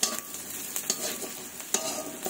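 Dried red chilli, cumin and ginger pastes frying with browned onions in a pan, a steady close sizzle broken by repeated scraping stirs.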